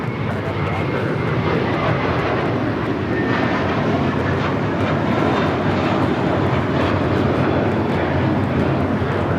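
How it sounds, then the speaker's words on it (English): A JetBlue Airbus A321 jet takes off from Los Angeles airport with a loud, continuous engine roar at close range, heard alone with no talk over it. "A JetBlue flight now taking off 25 at right."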